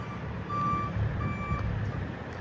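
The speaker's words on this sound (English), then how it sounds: "And there goes the trucks." Railroad track repair trucks back away with a steady, thin reversing beep repeating at a distance over a low engine rumble and background hiss, with no one speaking.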